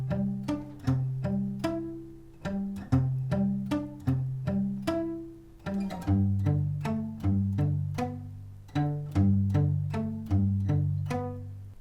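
Plucked guitar plays a fingerpicked pre-chorus pattern from a song, with clear individual notes in a repeating rhythm, solo and close, with no talking.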